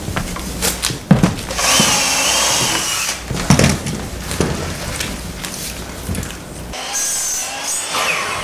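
A power drill drives screws into slightly warped wooden boards during stage construction, with repeated whirring bursts separated by brief pauses and knocks, close and loud.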